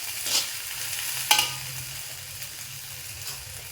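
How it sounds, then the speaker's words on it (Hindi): Onions go into a pan of softened okra and potato for a dry oil-free sabzi, giving a faint steady sizzle with a couple of brief stirring scrapes and clicks, and no talking. "अब हम प्याज डालेंगे।"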